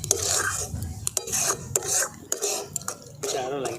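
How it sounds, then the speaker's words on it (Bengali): Carrot sandesh dough is stirred steadily in a pan, giving continuous scraping and rubbing sounds with repeated short knocks of the spoon against the pan, close and moderately quiet. "এটা কিন্তু ক্রমাগত নাড়তে হবে যেন নিচে না লেগে যায়।"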